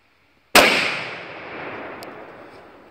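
A single loud rifle shot fired at a red stag during a hunt cracks sharply after a brief silence, then rolls away in a long, fading echo across open country.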